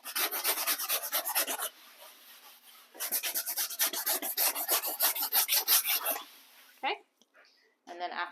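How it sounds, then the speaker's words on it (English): Sandpaper rasps over flaked paint on an RV panel in quick, rhythmic back-and-forth strokes, close and clear, with a short pause between two bursts and a few scrapes at the end. "So just sand it a little bit just to make it look a little smoother."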